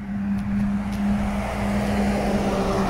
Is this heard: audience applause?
no